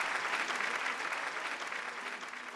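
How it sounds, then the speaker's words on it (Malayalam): A studio audience on a Malayalam TV show bursts into applause, a dense, even roar of clapping that stays strong before easing slightly toward the end. "ഒരു കൈയടി വീണ്ടും"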